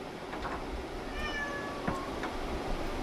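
A house cat lets out a thin, fairly faint meow against steady room hum and fan noise during a PC build.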